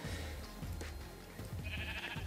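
Sheep in Minecraft give a few short, fairly quiet bleats over a low ambient background.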